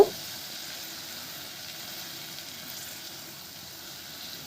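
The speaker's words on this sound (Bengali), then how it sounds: "এবার মশলার সাথে টমেটো ভালোভাবে মিক্সড করে নেব" Tomatoes mixed with chili, coriander and garam masala powders frying in a pan, a steady soft sizzle and hiss running the whole time with no talking.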